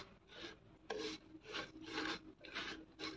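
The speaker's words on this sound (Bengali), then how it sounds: "এখন ভালোভাবে নেড়ে চেড়ে সেমাইগুলোকে আমি বাটারের মধ্যে কিছুক্ষণ ভেজে নিব।" Vermicelli (shemai) fries in butter over a low flame while being stirred, producing about six rhythmic scraping strokes, quiet and close.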